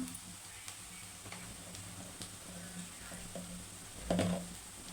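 Ginger garlic paste frying in a pan for an egg fry, a faint steady sizzle with scattered ticks and light scraping taps, and a short louder clatter near the end.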